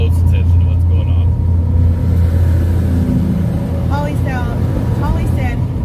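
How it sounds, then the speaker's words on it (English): Steady road rumble of a truck driving on the highway as part of a convoy, a continuous low drone with engine hum throughout and faint voices underneath. "The sound of the truck and the road, it's so calming and comforting."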